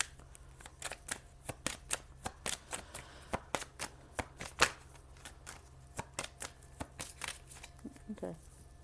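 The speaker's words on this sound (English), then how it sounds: "I'll give it one more shuffle." Tarot cards being shuffled by hand close up, with a long run of crisp, irregular riffling clicks and snaps, some louder than others, ending in a few softer rustles.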